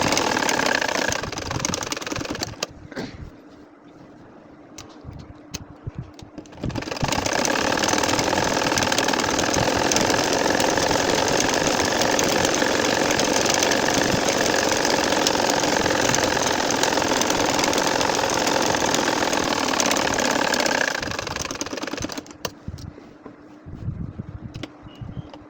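An ordinary home sewing machine runs straight stitching across the sections of a nakshi kantha quilt, a steady motorized whir lasting about fifteen seconds, with quieter rustling and handling before and after.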